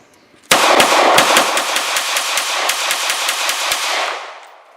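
A B+T MP9 submachine gun with a compact magazine fires one long rapid burst of about fifteen evenly spaced loud shots that ring out sharply, then the echo fades away.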